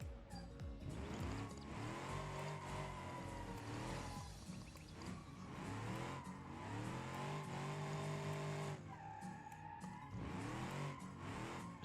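A car in BeamNG.drive being drifted with handbrake and throttle control: the engine revs rise and fall continuously while tires squeal and skid. The sound is loud and sustained, with no speech.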